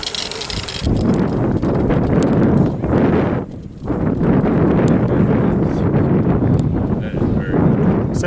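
Wind gusts across an open grass field at about 9 mph, rising to 10, where a power kite and buggy are in use. Loud, rough buffeting rushes continuously, with one brief lull near the middle.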